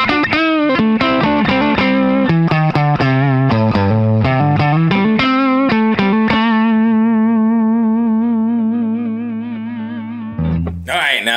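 A hollow body F-hole Telecaster electric guitar, played on its neck humbucker through effects with distortion and chorus, picks a quick run of notes, then lets a chord ring out and decay before a last abrupt strum.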